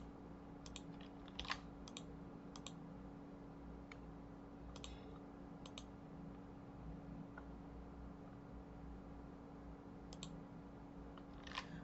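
Soft, scattered keystrokes on a computer keyboard tap out irregularly, faint against a steady room hum with no talking.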